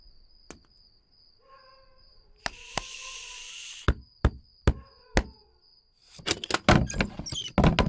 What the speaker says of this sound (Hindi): खटका मार।